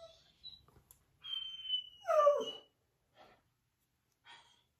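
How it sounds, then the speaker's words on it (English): A husky dog gives a few short, close vocal noises, including a drawn-out whine with a rising and falling tone, followed by softer snorts and breaths separated by quiet pauses. "my dog Dexter is very noisy, husky"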